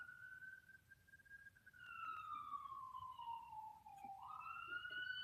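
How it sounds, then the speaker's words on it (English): A passing emergency vehicle siren wails faintly in the distance, one long slow sweep that falls and then rises again over low background noise. "There's always a siren going on."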